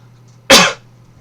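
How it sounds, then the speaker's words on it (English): A single sharp cough from a dry, irritated throat after eating salty popcorn, close and loud, a brief burst against a quiet room hum. "so my throat's a little dry, so if I'm coughing a little bit, excuse me"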